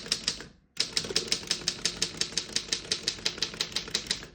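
Typing on a 1933 Underwood No.6 vintage desktop typewriter: a steady run of crisp key strikes follows a brief pause, each clack sharp and close with mechanical rattle between, about five per second, with no talking.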